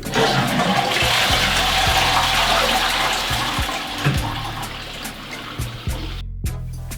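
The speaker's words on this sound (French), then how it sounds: "on va vider l'eau de la chasse et donc l'eau qui se trouve dans le tuyau" A toilet cistern is flushed and drains loudly, a steady rush of water through the pipe that eases off over several seconds before stopping near the end, with a few thumps and clicks underneath.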